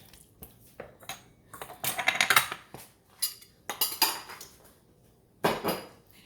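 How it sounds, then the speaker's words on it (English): A spoon scrapes and clanks against a metal pot while stirring a squash casserole mixture, with irregular bursts of clattering strokes close by and brief pauses between, no talking. "Let me stir it up real good."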